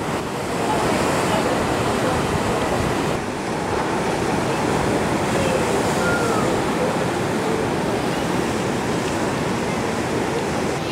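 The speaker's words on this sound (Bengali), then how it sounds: "এত জোরে ঢেউগুলো আছড়ে পড়ছে পাথরের ওপর" Sea waves crash against rocks at Kanyakumari in a steady, loud roar of surf that continues unbroken through the whole stretch.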